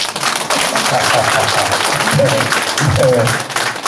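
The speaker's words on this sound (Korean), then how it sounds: "어떻게 좀 박수 한번 쳐주세요." Audience applause at a city council briefing in Namwon, Korea, a steady, dense clapping from a crowd filling the hall for the full few seconds, loud and sustained with some voices mixed in.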